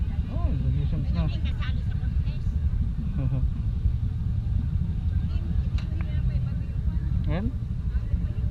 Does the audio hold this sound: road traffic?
yes